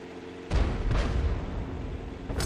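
The GW Tiger (P) self-propelled artillery gun fires in World of Tanks, a sudden deep boom that rolls into a sustained rumbling blast tail, with a softer burst near the end.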